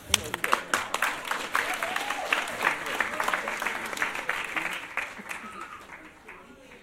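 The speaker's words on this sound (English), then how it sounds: "Let's give him another round of applause." Audience applause at a political event, a burst of clapping that swells then gradually fades over several seconds, with voices mixed in.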